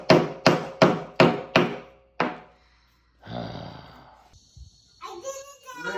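A child strikes nails into a wooden frame for a DIY solar pool heater, giving five quick rhythmic hammer blows and a sixth a moment later, close and loud, followed by voices talking.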